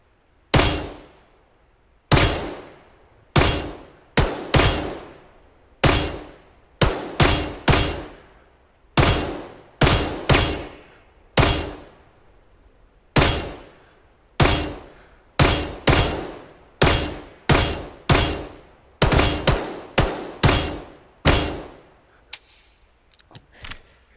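Single gunshots at a shooting range in the VR game Vail VR, sharp loud cracks fired one after another in an uneven steady rhythm, each with a short decaying tail, close and with almost no talk.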